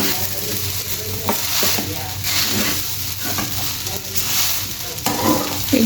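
Sabudana khichadi stirred and frying in a pan, with a steady close sizzle and scraping stir strokes running throughout, fairly loud with no talk.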